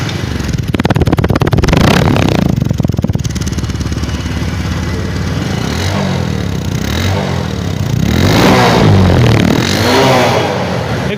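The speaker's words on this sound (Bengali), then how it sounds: "তো যাই হোক, এখন স্টার্ট দিয়ে একটু দেখাবো।" A Bajaj Discover 125 motorcycle engine is started and revved, giving a loud, steady mechanical roar with rising and falling revs and some clatter throughout.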